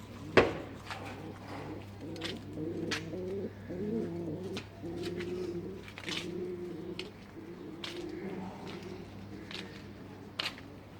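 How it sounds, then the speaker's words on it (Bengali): A dove calls from a rooftop, its soft coos repeating over and over at a moderate distance, with a few sharp clicks and a faint steady hum underneath. "এই যে ঘুঘু পাখি ডাকতেছে।"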